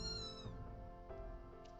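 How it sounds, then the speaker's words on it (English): A cartoonish cat meows once in the video game Fate Grand Order, a short rising-and-falling mew heard up close and clearly, with nobody talking over it. "Was that a cat?"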